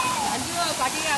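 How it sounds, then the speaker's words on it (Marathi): A secret waterfall in the Konkan region rushes as a steady, close wash of falling water, loud and continuous with no pauses. "हे पहा मित्रांनो आता आपण धबधब्याच्या पॉईंटवर पोहोचलेलं आहे."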